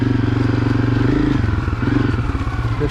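A Honda CRF250F dirt bike engine runs steadily at close range while being ridden, with a loud, pulsing low thrum that wavers slightly in pitch as the throttle shifts.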